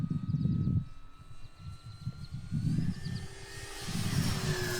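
A Dynam P-47D Thunderbolt RC plane's electric motor at about half throttle whines in the air, rising and fading in pulses as the model passes at moderate distance, alone without voices.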